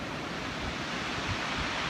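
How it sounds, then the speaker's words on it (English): Receding waves drag countless small pebbles back down a New Zealand West Coast shoreline, a loud, dense, continuous hiss and rattle with no voices. "As the water recedes back, it pulls all these stones back out, isn't it?"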